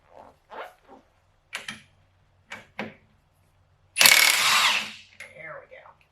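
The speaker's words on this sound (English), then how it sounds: "now I'm just going to break loose the axle nut." Short, sharp bursts of ratcheting click out in separate pulses while an axle nut is broken loose on a Honda Civic suspension job, followed by a louder, longer burst of tool noise.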